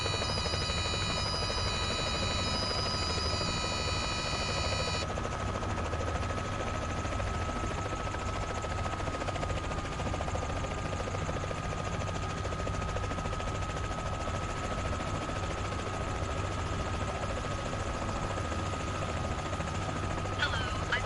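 A helicopter engine in Microsoft Flight Simulator 2024 drones steadily for the whole stretch, a dense constant rotor and turbine roar with a faint high whine riding on top.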